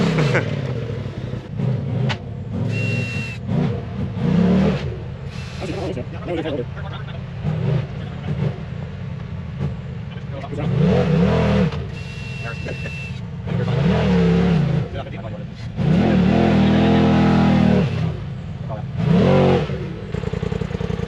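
Off-road side-by-side engine thrashing on a muddy trail at Windrock Off Road Park, revving in repeated loud surges and dropping back between bursts, while people talk over it throughout.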